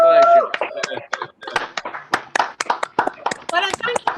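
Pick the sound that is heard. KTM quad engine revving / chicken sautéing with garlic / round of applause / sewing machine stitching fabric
round of applause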